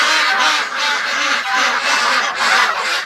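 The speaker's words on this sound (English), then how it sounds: "The way they're quacking, I think they want" Ducks and geese wintering in a barn quack and honk loudly and continuously, a dense close chorus of overlapping calls with no pauses.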